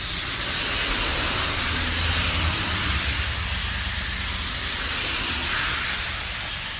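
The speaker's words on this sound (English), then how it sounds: "this is what it sounds like on my front porch when" Cars hiss past on a wet road in the rain, heard from a front porch, a continuous spray of tyre noise swelling and fading as vehicles go by.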